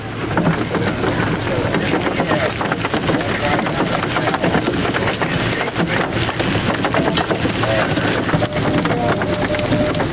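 Dense, hard pattering of nickel- and dime-sized hail falling steadily during a storm in north-central Indiana, a loud continuous hiss and clatter with a low rumble underneath.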